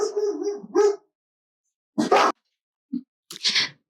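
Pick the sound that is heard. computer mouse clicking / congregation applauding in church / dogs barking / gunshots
dogs barking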